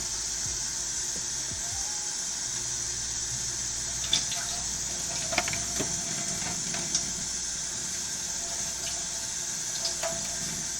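A kitchen tap runs steadily while food is washed under it, a constant close stream with a few faint clinks and bumps from the sink.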